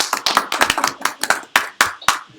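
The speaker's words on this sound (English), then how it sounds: "Applause." A small audience claps after a live technical demo, a handful of separate, uneven hand claps that are close and fairly loud and that thin out over about two seconds.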